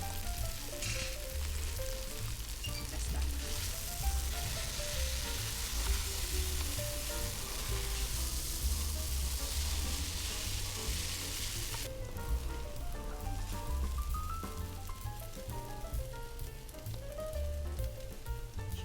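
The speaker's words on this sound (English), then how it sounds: "Once it's all in, stir fry it for another 1 to 2 minutes." Glutinous rice stir-frying in sesame oil for Hokkien zongzi, a steady close sizzle running throughout with scraping stirs and a faint melody playing underneath.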